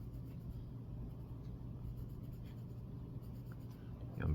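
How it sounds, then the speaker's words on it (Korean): A pencil pressed hard onto paper draws heavy strokes, giving a steady close scratchy rasp that runs continuously with a louder scrape at the end. "억센 연필선을 쓰기 위해서는 어떻게 해야 되냐면 연필을 누르는 겁니다."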